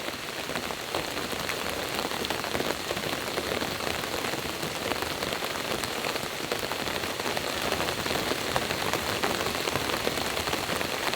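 Heavy rain from Hurricane Ian pours down at a camp-out, a dense, even hiss of drops beating on surfaces that stays loud and unbroken for the full stretch, with nobody talking.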